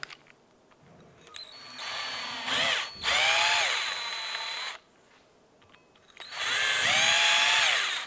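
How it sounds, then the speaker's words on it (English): A bore brush on a power drill spins through a rear brake caliper bracket on a 2006-2011 Cadillac DTS, giving loud close whirring bursts that rise and fall in pitch between short pauses. "I'm going to run our bore brush through there one more time"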